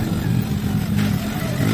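A motorcycle rumbles steadily at close range on a road ride, a continuous mid-pitched engine drone with faint clatter and wind.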